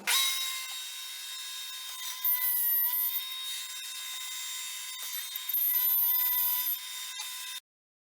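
A router cuts mortise slots through wood held in a shop-made mortising jig, giving a steady high-pitched whine with rising and dipping bursts as the bit feeds along, then stopping abruptly near the end.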